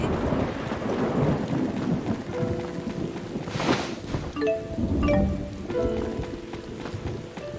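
Thunder rumbles through a steady rainstorm in the video game Tales of Xillia 2, a loud crack near the middle of the clip over continuous rain, with game music tones rising in the background.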